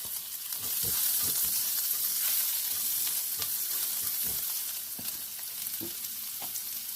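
Ginger and garlic sauté in a hot pan for mushroom curry, a loud, close sizzle broken by repeated scraping stirs of a spoon against the pan.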